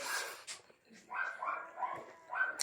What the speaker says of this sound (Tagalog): Ingay naman mga aso na ito.